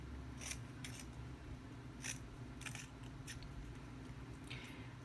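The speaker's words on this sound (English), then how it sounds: "So the first thing I'm going to do is cut with my fringe scissors" Quiet, crisp snipping of fringe scissors through paper, several short cuts at an irregular pace over a low steady background hum.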